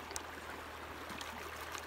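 Water sloshing and trickling in a gold pan as sediment is worked, a soft continuous close swirl of flowing water with no talking.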